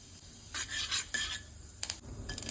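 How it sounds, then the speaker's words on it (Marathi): Cumin seeds dropped into hot ghee for a Marathi-style tempering, giving short bright sizzling bursts with stirring and utensil scrapes in between, close and moderately loud with no talk. "तूप तापलं की जिरं टाकायचं."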